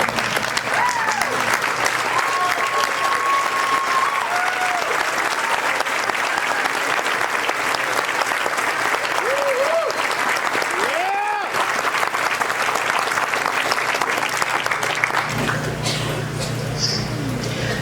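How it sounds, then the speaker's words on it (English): Audience applause at a speech, sustained dense clapping for the whole stretch, loud and close, with a few faint whistles or cheers rising from the crowd. "Please stand and join me in giving them another round of applause."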